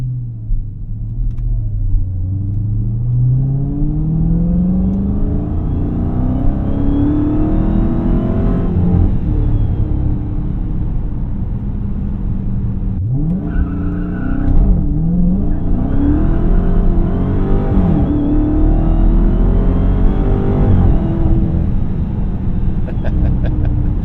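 A 2023 Dodge Charger SRT Hellcat Jailbreak roars loud and close as its engine revs hard and rises in pitch while the tires spin, with a second surge of revving midway.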